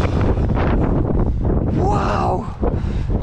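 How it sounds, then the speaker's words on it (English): Strong wind buffets the microphone outside an abandoned school, a loud, gusty roar that stays close and constant, with people talking and exclaiming through it. "Check this wind out."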